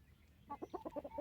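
Chickens cluck in a short, rapid run of soft, throaty notes from a cramped pen, faint and fairly close, with no voices.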